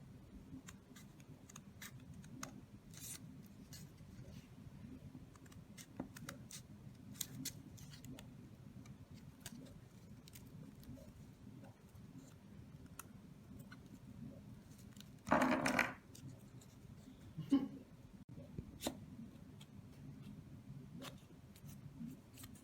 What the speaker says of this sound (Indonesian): Setelah kita garis, saatnya kita gunting.